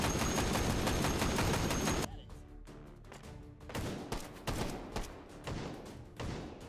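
Light machine gun fire from the virtual reality shooter Hot Dogs, Horseshoes and Hand Grenades: two seconds of loud, dense continuous automatic fire, then scattered heavy single shots and thuds at uneven intervals.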